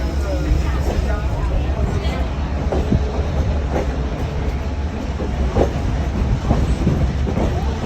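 A train pulled by diesel F unit locomotives on the Lehigh Gorge Scenic Railroad rumbles steadily along the rails with a deep engine drone, rhythmic wheel clatter, and occasional metallic squeals, while a person talks over it.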